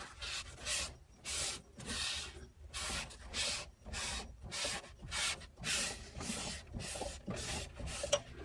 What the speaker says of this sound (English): I'll wipe it off of in here as much as possible